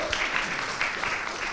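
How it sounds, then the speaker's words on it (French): Audience at a French film awards nominations announcement clapping, a short burst of steady applause from a crowd indoors, close and fairly full. "un petit applaudissement pour eux"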